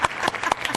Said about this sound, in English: Let's give them an applause here